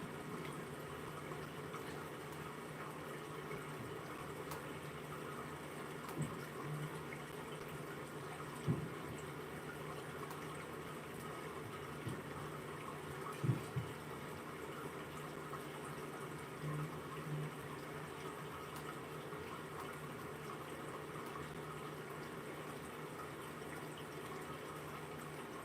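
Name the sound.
played water sound for studying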